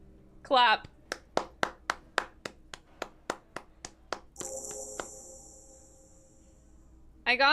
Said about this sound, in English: It's the most pathetic applause in the world, Harry.